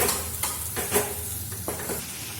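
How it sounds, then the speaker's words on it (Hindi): Pumpkin with spices sizzles in a pan, and a spoon stirs it every so often with soft scraping strokes. The frying hiss stays steady and close throughout. "इसको अच्छी तरीके से सौते करेंगे।"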